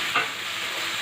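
Green chillies and tomatoes are stirred in a pan of hot oil for a dosakaya and dried prawn curry, producing a steady close sizzle with one brief scraping stir near the start.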